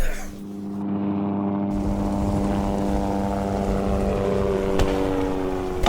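Helicopter in a 1983 Super-8 feature film: a steady droning engine and rotor hum with a constant tone, fairly loud and continuous.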